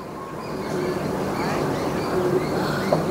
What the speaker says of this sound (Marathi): खूपच सुंदर अशा ट्रेन येत आहेत